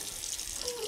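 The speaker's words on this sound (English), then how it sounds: "run some hot water, as hot as you can" Hot water gushes steadily from a kitchen tap, a close, continuous hiss of running water with no talk over it, as if filling a sink to soak a stainless steel grill pan.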